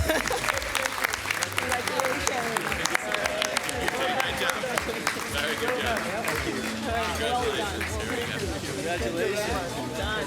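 Audience applause at an awards and recognition dinner for prize winners, a dense, steady wash of clapping filling the room with crowd chatter and voices mixed in throughout.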